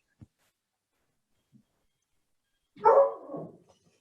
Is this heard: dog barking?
yes